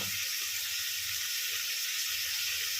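Crushed ginger and garlic added to a pan with onions: a steady, close, bright sizzle of frying that holds evenly throughout with no pauses.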